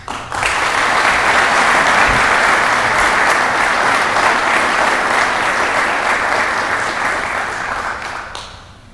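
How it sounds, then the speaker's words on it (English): Sustained, loud audience applause fills an honoring ceremony at an Air Force base, steady clapping swelling quickly and holding for several seconds before cutting off. "please join me in a round of applause"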